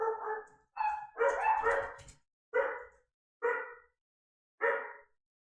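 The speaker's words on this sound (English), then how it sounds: "it barks at you viciously." A dog barks viciously in six sharp, separate bursts with short pauses, the middle bursts running together in a longer snarling volley, loud and close with silence between.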